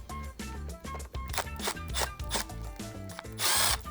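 A power drill with a T20 Torx bit backs screws out of a Steelcase Series 1 or 2 office chair, giving close, loud pulsing whirs and grinding that end in a brief high rattle, with no voices.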